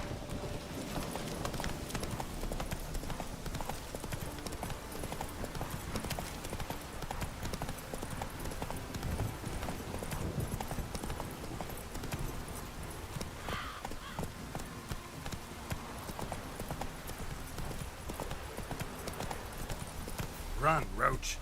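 Roach, a horse in The Witcher 3 video game, gallops with rapid, steady clip-clop hoofbeats that run through the whole stretch at moderate loudness, ending with a few sharper accents near the end; someone talks over it.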